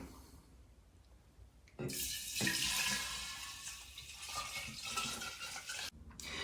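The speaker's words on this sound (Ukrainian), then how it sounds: "тепер заливаємо вміст з спиртовим розчином нашим готовим уже" Alcohol solution is poured into a three-liter glass jar for a bison grass liqueur, a sudden loud gushing splash that runs for about four seconds, briefly stops, then resumes.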